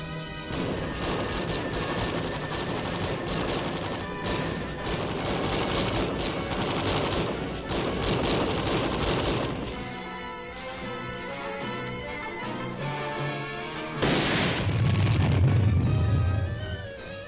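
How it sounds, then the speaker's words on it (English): Military supporting fire during a rifle platoon attack: dense bursts of machine-gun fire and crashing artillery blasts, loud and continuous, easing briefly before a heavy booming impact near the end. "Behind the metal screen of supporting fire, Lieutenant Hadley leads the rest of the pla"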